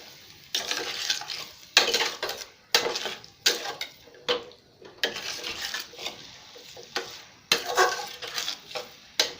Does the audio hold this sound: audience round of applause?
no